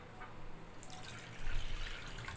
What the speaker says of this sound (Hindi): नीम गर्म पानी इसमें जाएगा।